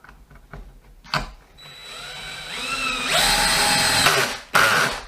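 A power driver whirs as it drives single-thread woodscrews, with a few short clicks first, then a rising motor whine that holds for a second or two, stops, and briefly bursts again, close and fairly loud.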